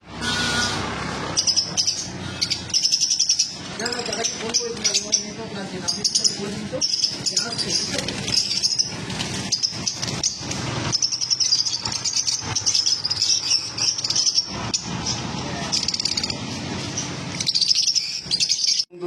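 Caged lovebirds for sale keep up busy overlapping chirps and shrill tweets, dense and continuous, with someone talking loudly over them.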